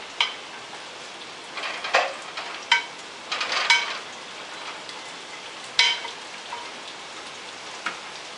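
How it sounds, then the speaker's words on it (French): Mushrooms and carrots sauté in a frying pan, a soft continuous sizzle broken by several sharp spatula scrapes and clicks as the vegetables are stirred. "Dans mon autre poêle, je vais mettre les champignons et les carottes."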